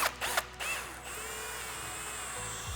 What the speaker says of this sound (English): I'm gonna drill a hole somewhere here in the corner.